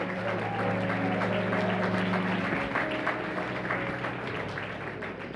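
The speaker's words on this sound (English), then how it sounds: "Come on, clap your hands." Congregation clapping at a church birthday celebration for Reverend Jesse Jackson Sr., a steady dense patter of many hands that runs the full length at an even level, with low sustained organ or music tones underneath.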